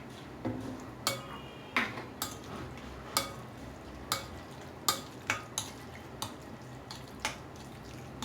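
Batter for chicken box patties is mixed in a bowl, with a steady series of sharp spoon taps and clinks against the rim over a quiet wet stirring sound.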